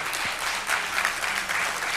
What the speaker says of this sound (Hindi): आपकी तालियां बता रही हैं